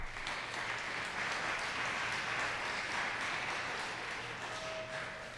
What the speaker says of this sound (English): would you please give a round of applause to our very distinguished panel?